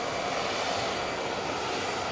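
Air Force One's jet engines keep running after arrival at Palm Beach International Airport, a loud and even whooshing roar heard alone with no talking.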